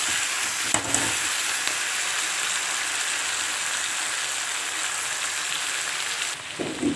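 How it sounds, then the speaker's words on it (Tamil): Ten to twelve green chillies sauté in a pan with a continuous loud sizzle and crackle, a brief stirring scrape early on and another near the end. "ஒரு 10-12 பச்சை மிளகாய் எடுத்திருக்கேன். ஸோ அதையும் சேர்த்து நல்லா வதக்கிடலாம்."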